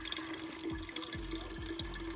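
Water running from a pump in a camper van, a steady close trickle and splash with faint repeated dripping, heard alone without talk.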